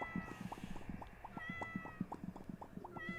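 Several house cats meow repeatedly in short, overlapping calls while being played with, fairly close, with a faint steady tonal hum running underneath.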